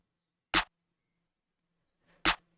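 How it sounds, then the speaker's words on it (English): A snare layered with a clap in a trap beat, two sharp, dry hits spaced well apart, each short and punchy with silence between them. "next up, I laid it with a clap, which just plays the same pattern."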